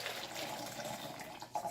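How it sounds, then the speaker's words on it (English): Water pours into a blender while making Ghanaian fish pepper soup, a soft, faint splashing trickle that runs for about two seconds. "Then I'm going to add some water."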